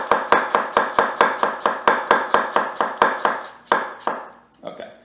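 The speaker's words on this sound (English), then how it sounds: "I'll move my fingers back as I am chopping like that, and it'll kind of naturally make thin slices as I go." A knife chops quickly and rhythmically through an avocado into thin slices, about a dozen crisp even strokes on a cutting board, ending with a few softer handling sounds.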